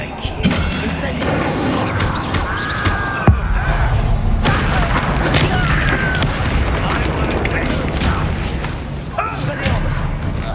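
Spell combat in the video game Hogwarts Legacy, with the Incendio fire spell cast amid dense battle noise: repeated booms, bursts and thuds over a steady mechanical din, with a sharp hit near the middle and voices in the fight.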